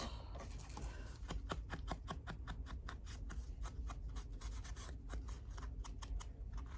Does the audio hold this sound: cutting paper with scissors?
yes